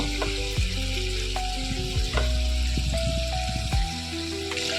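Prawns sizzle and fry in hot oil in a pan for a Bengali malai curry, a continuous crackling spatter with occasional clinks of a utensil lifting pieces out one by one.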